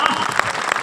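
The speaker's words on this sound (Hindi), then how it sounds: "उसकी आधी भी ताली बजाकर बता दीजिए" Brief burst of audience applause at a Hindi poetry recital, a short dense patter of many hands clapping with a few sharper accents, loud and close, no voices.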